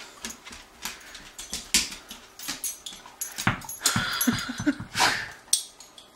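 A dog whimpers, yips and makes short vocal sounds close by in a home, in irregular bursts that rise and fall over several seconds, moderately loud with no talk.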